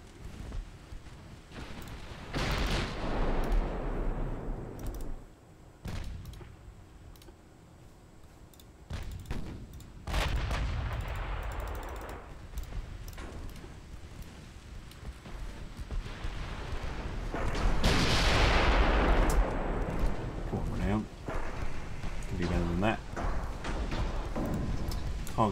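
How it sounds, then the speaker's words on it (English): Naval guns firing in a 1920s British naval campaign video game, several heavy booming blasts spaced many seconds apart with rumbling tails, amid ongoing game noise and someone talking over it. "Guns."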